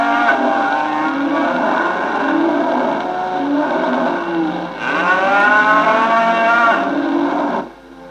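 Cattle on an immense Australian cattle station, a long drawn-out loud moo followed by a second rising bellow, heard from an old 1960 film soundtrack with some mechanical hum beneath.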